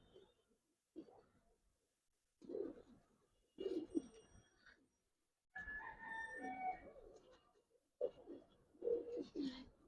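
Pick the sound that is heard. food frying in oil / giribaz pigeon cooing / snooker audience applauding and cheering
giribaz pigeon cooing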